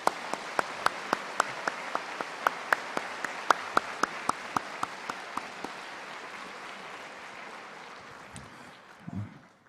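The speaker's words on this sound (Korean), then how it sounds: "우리 강사 목사님께 다시 한번 감사의 박수를 드리겠습니다." A church congregation at a Korean Sunday evening revival service applauds the guest pastor: distinct, evenly spaced claps in a steady rhythm that blur into softer scattered applause and fade out near the end.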